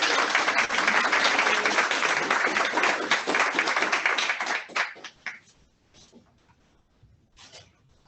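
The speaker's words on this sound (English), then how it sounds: "A round of applause." Audience applause at a meeting, dense and close for about five seconds, then thinning to a few scattered claps before fading out.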